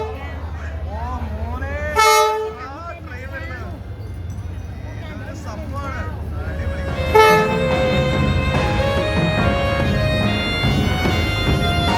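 A big train rumbles through Hanoi's narrow train street and sounds its horn twice, loud and close, while people nearby talk and shout over the steady rolling noise.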